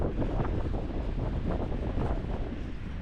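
Cold wind gusts against the microphone by the South Atlantic, a heavy low rumbling roar that stays steady and close throughout, with no voices.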